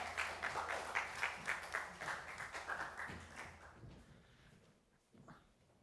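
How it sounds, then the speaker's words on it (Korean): A church youth congregation at a combined middle and high school worship service breaks into brisk clapping that gradually fades out, with a faint voice near the end. "여러분 힘찬 박수로 맞아주시면 좋겠습니다"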